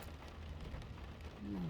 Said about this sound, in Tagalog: Ulan pa rin mga jay.